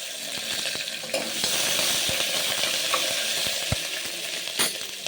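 Green chili, ginger, onion and curry leaves fry in oil in a pan, a steady loud sizzle with occasional spoon taps and stirring scrapes, close by and with no speech.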